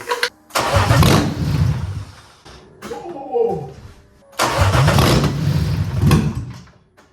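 A BMW engine on its first start attempt after an engine swap, with a suspected fuel-delivery problem, cranks loudly up close, pauses, then cranks again and catches into a running roar; a voice is briefly heard between the attempts.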